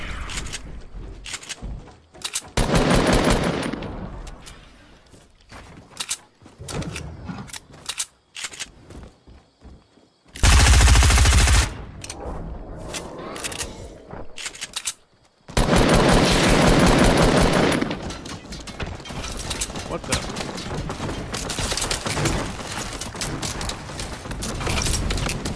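Video game gunfire in a turret-based shooter mode, with dense bursts of automatic fire at the start, a loud sustained blast around the middle, then continuous heavy shooting until the end.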